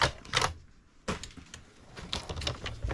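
Blade slicing through sheet material during a junk-journal build: several sharp, crisp cutting strokes and snips in quick bursts, close and clear, with short pauses between.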